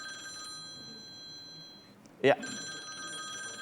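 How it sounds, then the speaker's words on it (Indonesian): A telephone rings with an incoming call in a television studio during a religious talk broadcast, steady ringing tones running throughout, broken by a brief loud spoken word. "ada telepon masuk"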